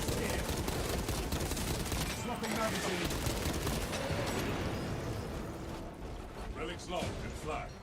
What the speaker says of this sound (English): Using handgun. Shoot these little bastards